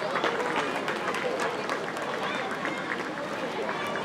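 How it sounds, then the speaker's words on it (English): A crowd gives a round of applause at a cultural jubilee gathering, steady, dense clapping that holds at an even level throughout without pause. "Let's give the round of applause."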